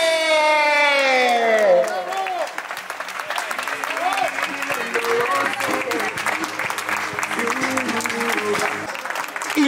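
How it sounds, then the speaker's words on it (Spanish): Crowd applause and cheering with whoops greet Juancho on arriving in Cartagena after a 400-kilometre charity bike ride, loud and sustained after a brief shout at the start. "fuerte el aplauso, ¡Juancho!"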